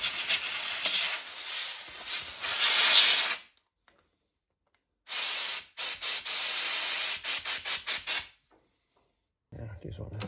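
Cleaned Yamaha TT600R motorcycle petcock parts are blown dry with compressed air, producing loud, close hissing bursts, one long blast and then several short ones with silent gaps between them.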